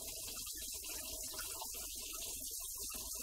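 Water drains steadily out of a grease trap being cleaned, giving a constant close rush and trickle with a faint hum underneath.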